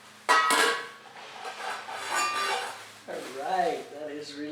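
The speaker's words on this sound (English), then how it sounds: "Put a bowl on it here." Dog bowls set into a bowl stand, a sharp clank of bowl on stand followed by lighter rattling, with someone talking over it.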